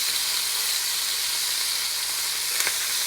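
Chicken and onions sizzle steadily in a one-pot dish, a dense, even frying hiss throughout with a brief sharper pop near the end, close and alone.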